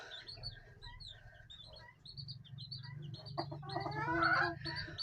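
Hens clucking and calling close by, with short chirpy bursts over a low steady rumble, growing busier and louder toward the end.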